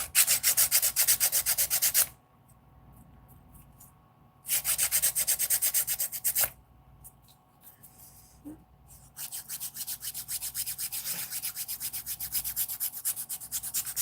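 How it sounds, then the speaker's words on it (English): A nail file rasps back and forth across fingernails in quick, close strokes, in three bursts of scratchy filing split by short quiet gaps. "Seems like this filing's going slow."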